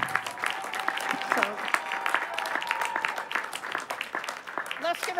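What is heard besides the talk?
audience applause at graduation ceremony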